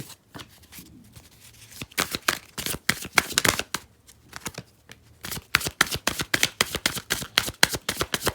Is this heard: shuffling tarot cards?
yes